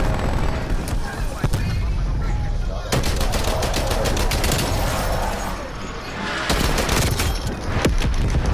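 A Call of Duty Black Ops Cold War match fills the clip with dense, continuous machine-gun fire and booming impacts. Players talk throughout over the steady rattle of shots.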